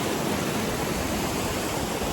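A waterfall outdoors in nature, a steady dense roar of falling water filling the whole short stretch with no other sounds.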